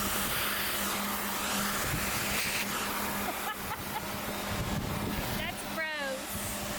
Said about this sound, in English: we're gonna vacuum her first because it might rain